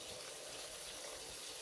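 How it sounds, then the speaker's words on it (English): Water from a tap runs steadily into a corn mix being prepared as fishing bait, a faint continuous gush with no speech. "Now I'm gonna add some water."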